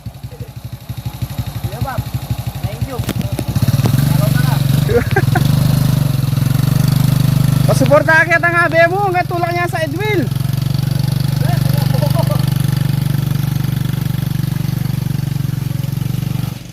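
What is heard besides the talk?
motorcycle engine idling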